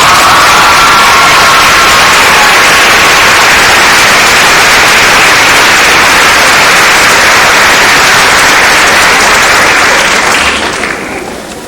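A loud, dense wall of applause and cheering from a pageant crowd greets the first runner-up at the 2003 Jasper Strassenfest Queens Pageant, staying steady for about ten seconds before tapering off at the end.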